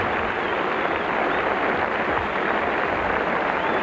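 A cricket crowd at a Test match against the West Indies applauds Alan Knott's century, a steady, unbroken wash of clapping from far off across the ground, with no voices standing out.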